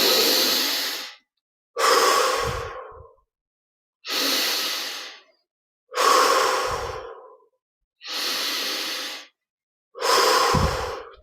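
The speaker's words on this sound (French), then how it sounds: "on va respirer 15 fois profondément. Inspire par les narines, expire par la bouche." Six slow, deep breaths during a guided meditation, drawn in through the nose and let out through the mouth. Each long airy breath is close and loud, with steady gaps of silence between them.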